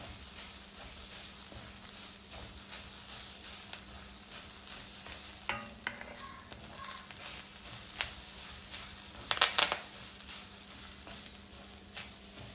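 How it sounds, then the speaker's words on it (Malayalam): Grated coconut, cinnamon and spices roast in a pan for Kerala-style prawn theeyal, with a faint low sizzle under intermittent spoon scrapes and one brief clattering flurry of stirring. "ഇത്രയും സാധനം ചേർത്ത് നമുക്കിതൊന്ന് നന്നായിട്ട് മൂപ്പിച്ചെടുക്കാം"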